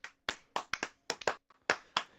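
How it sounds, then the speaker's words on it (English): People clap in a loose, uneven rhythm, about a dozen sharp hand claps in two seconds, close and fairly quiet with no talking. "Everybody clap."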